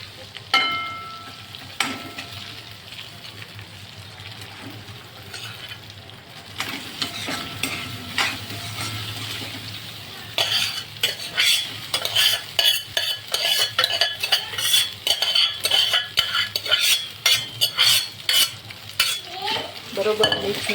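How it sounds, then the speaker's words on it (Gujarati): Cooked rice being stirred and mixed in a pot with salt for Hyderabadi khatti biryani, a spoon scraping and clinking against the metal in quick irregular strokes over a faint sizzle, growing busier and louder in the second half, no talk. "બરોબર મિક્સ ના થાય ત્યાં લગી ભાતને હલાવવાના"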